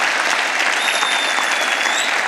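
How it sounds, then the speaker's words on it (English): A round of applause, a brief, loud, even wash of many hands clapping close together, fills a couple of seconds with no speech over it. "Give me a round of applause on that"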